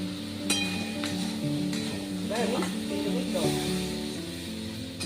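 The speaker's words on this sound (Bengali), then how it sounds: "মশলাটাকে ভালো করে কষিয়ে নেব। প্রায় কষে এসছে, মশলা থেকে দেবো, তেল ছাড়ছে।" Spice paste sizzles steadily in hot oil for a fish curry with brinjal and potato, a continuous frying hiss with a few utensil clinks over it and faint background sound throughout.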